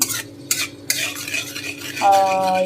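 A spoon stirs asafoetida into hot ghee in a kadai while making the pea filling for kachori, giving close, steady scraping strokes over a soft sizzle, with a brighter frying hiss swelling near the end.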